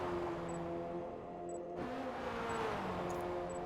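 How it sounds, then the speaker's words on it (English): A race car engine holds a steady, loud full-throttle drone in a racing video game at the Nürburgring, with a brief pitch shift midway and faint periodic beeps over the continuous roar. "The car still sounds like it's going full bore."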